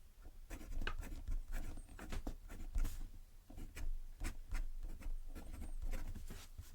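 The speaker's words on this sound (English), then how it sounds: "So let's just do a quick little writing sample so we can see." A Montegrappa fountain pen with a fine nib scratches across paper in quick, irregular strokes, close up and alone, with short pauses between bursts of writing.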